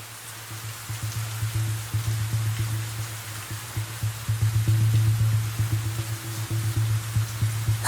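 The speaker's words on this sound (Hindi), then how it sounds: "छाता ना हो और बारिश आ जाए तो ऐसा हो ही नहीं सकता कि कोई भीगे ना।" Steady rain pours throughout a film scene, a constant close wash of falling drops with a low continuous hum beneath it and no voices.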